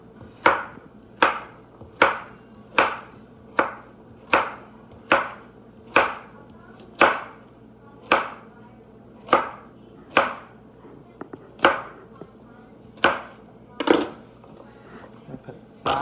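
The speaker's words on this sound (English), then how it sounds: "I got my carrots here, so I'm just going to chop them up." A knife chops carrots on a board in steady, evenly spaced sharp thuds, about one every 0.7 seconds, close and loud with a few lighter taps between strokes.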